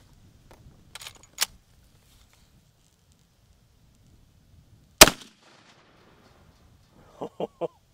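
A .35 Remington rifle fires at a target about 12 yards away, one sharp loud report standing alone amid quiet, followed later by a few fainter clicks or impacts.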